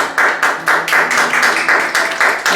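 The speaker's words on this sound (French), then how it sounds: "Acclame pour le Seigneur" Church congregation clapping in a steady rhythm, loud and close, about five claps a second keeping an even beat, with faint voices underneath.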